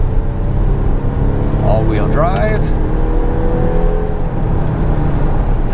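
A 2025 Volvo XC60 plug-in hybrid with all-wheel drive climbs one of Vancouver's steep hills as its engine kicks in, a steady loud hum and road rumble under someone speaking briefly.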